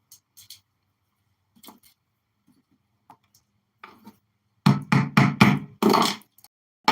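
Clay being rammed into a firework rocket tube: a run of sharp, loud thuds in quick succession near the end, after a stretch of faint scattered taps and near silence.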